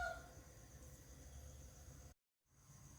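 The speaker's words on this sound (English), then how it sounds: "I hate these loud chicken." Chickens cluck and a rooster crows faintly against a steady hiss of background noise, the sound dropping out briefly near the end before the hiss returns.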